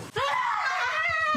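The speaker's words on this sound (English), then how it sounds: "that was a good scream" A woman lets out a long, loud, high-pitched scream on an upstairs visit, sustained for over a second right up close, with a rhythmic low thumping underneath.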